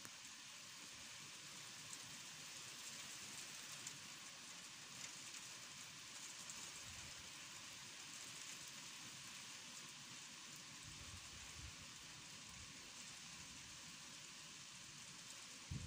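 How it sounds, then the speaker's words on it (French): Steady winter rain shower in Bellême, a soft continuous hiss of falling drops that holds evenly throughout, faint and with no voices. "Une averse de pluie."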